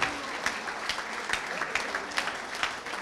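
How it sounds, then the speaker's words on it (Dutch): Steady applause from an indoor crowd at a municipal election results night, many hands clapping continuously with a few louder claps popping out near the listener. "Hiermee ook een applaus voor uzelf."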